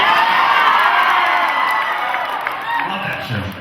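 A convention panel audience cheers and whoops at a Legends of Tomorrow panel at Rhode Island Comic Con 2016, a loud sustained crowd roar that gradually fades, with voices rising near the end.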